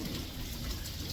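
Steady pouring rain during a days-long downpour, a soft, even hiss of water falling, faint and continuous throughout.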